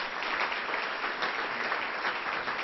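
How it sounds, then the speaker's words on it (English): Dense, continuous applause from a crowd at a metropolitan club economic forecast luncheon, a steady wash of many hands clapping at even volume throughout with no speech. "Give them another round of applause for all of their support."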